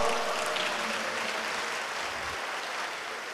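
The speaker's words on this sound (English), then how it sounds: "can we give a big round of applause to all the volunteers for Impian Sarawak?" Guests at a fund-raising dinner applaud the volunteers, a broad wash of clapping that starts loud and then settles into a steady, slightly softer patter without speech.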